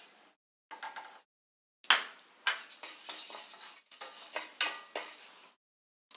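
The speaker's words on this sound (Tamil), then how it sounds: "இப்போ அடுத்து பாசிப்பருப்பை வறுத்துடலாம்." Moong dal dry-roasts in a pan, with dry rattling and scraping bursts of stirring separated by short pauses; no talking.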